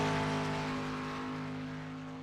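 Race car engine in a Daytona 500 qualifying warm-up lap in a racing video game, a loud sustained high drone that fades slightly as it runs, with no talking over it.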